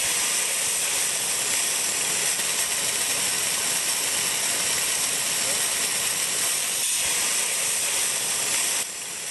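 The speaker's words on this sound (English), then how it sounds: "Carefully open the liquid CO2 source valve and allow the transfer line to vigorously purge" Liquid CO2 pushes through a transfer line and vents out an open purge valve as a loud, continuous high hiss that holds steady for several seconds before it cuts off near the end.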